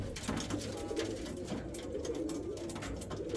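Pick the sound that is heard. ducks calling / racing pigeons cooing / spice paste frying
racing pigeons cooing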